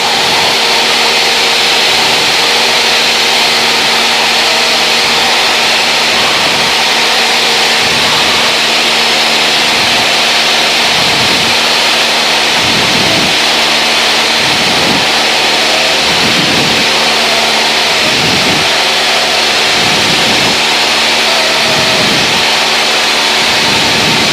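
Light aircraft G-BOIL's engine drones steadily in flight, heard loud from the cabin with a broad constant roar and regular low pulsing beats throughout.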